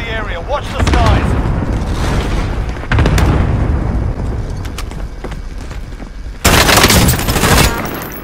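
Gunfire in Call of Duty Warzone rattles in loud bursts and booming blasts, with heavy impacts near the start, middle and end over a constant din of battle; a radio-style voice speaks during it.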